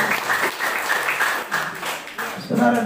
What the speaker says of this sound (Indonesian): Tepuk tangan yang terbaik buat Tuhan Yesus.